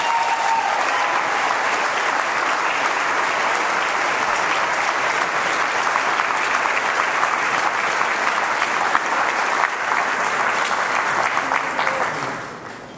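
Sustained audience applause for a Canadian country singer, a dense, even wash of clapping that continues loudly for the whole stretch before fading at the very end.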